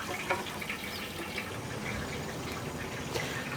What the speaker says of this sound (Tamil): நாற்பது லிட்டர் தண்ணி போடணும்